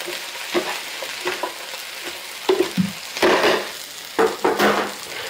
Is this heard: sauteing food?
yes